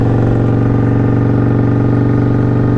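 A Harley-Davidson touring motorcycle, a Road Glide or Street Glide, runs steadily underneath its rider with a deep, loud, continuous engine drone and throbbing low rumble, with no talking.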